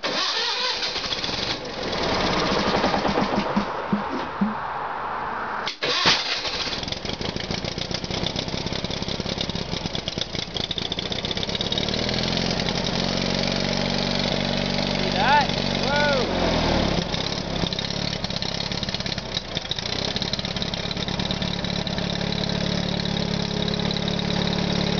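A snow plow engine with a fault is cold started, cranking and catching after a few seconds, then settling into a steady, loud, rough idle, with a person talking over it at times.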